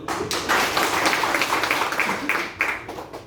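A small group claps, a moderately loud burst of scattered hand claps that rises quickly, carries on briefly, and tapers off near the end.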